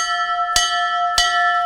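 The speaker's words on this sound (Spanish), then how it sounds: "pues doy una campanada. Hasta me ha asustado, suena fuerte" A convent bell rings a call signal in two loud, close strikes about half a second apart, each bright metallic clang leaving a long, sustained ringing tone.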